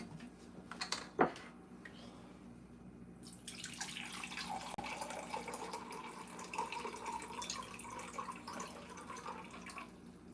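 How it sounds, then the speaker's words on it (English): Water runs from a kitchen tap to measure a third of a cup for pancake batter, a steady hissing stream that starts after a sharp clink and continues loud and close for several seconds. "We need 1/3 cup of water."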